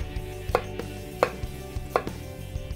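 Three sharp, evenly spaced knife chops through garlic on a cutting board, close and crisp over a quiet low hum.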